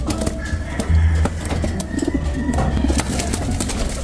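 Racing pigeon breeders coo in low, throaty, repeated calls close by, mixed with softer cooing from other birds in the loft and a steady background hum.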